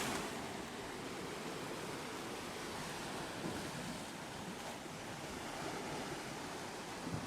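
Steady, broadband wash of sea waves breaking on rocks below a flight of stairs down to the shore, a continuous roar with light wind across the microphone and no voices.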